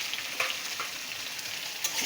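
Eggplant fries in ghee with a loud, continuous close sizzle, broken by occasional soft scrapes and taps as it is stirred; no one speaks.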